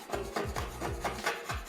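A scraper drags across painted drywall, scraping paint off in about six quick, evenly spaced rasping strokes, close and fairly loud, with no talk.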